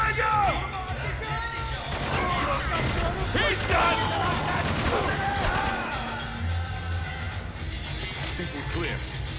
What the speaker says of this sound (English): I like the burst fire, but I just usually burst fire myself.